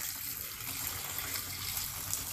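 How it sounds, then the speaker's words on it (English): Running water gushes steadily over polished rocks being rinsed, a continuous close hiss of flowing water with no talk. "That's just going to let us rinse all these stones off nice and good."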